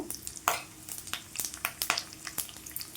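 Garlic, curry leaves and spices being stirred in a hot pan of oil, a soft sizzle under a steady run of scraping stirs, close and alone without talk.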